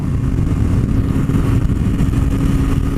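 A motorcycle engine runs loud and close, a steady low throbbing drone holding throughout with no voices over it.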